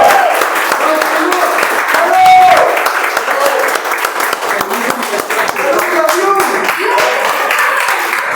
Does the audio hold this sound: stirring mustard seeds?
no